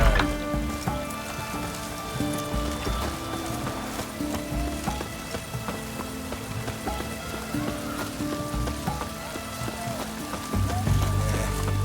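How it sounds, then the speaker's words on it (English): Steady rain falls in the video game The Witcher 3: Hearts of Stone, a dense continuous patter on surfaces with scattered drips, moderately loud, over a low ambient game hum and no speech. "Looks like rain."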